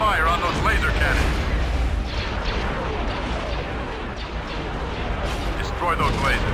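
Continuous booming weapons fire from starships targeting laser cannons in Star Wars Empire at War, thick rumbling explosions layered throughout, with short snatches of radio-style voices at the beginning and end.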